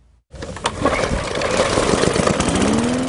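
A lawn mower engine starts and runs steadily while cutting grass, a loud continuous drone with a rising pitch toward the end, heard alone without talk.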